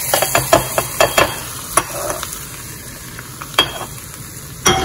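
Mustard seeds splutter in hot tempering oil for a gongura pickle, giving sharp irregular pops and crackles over a soft sizzle. The sound is close and loud, with no voices.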